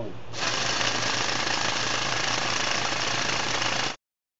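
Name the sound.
percussive drill coring into vesicular basalt rock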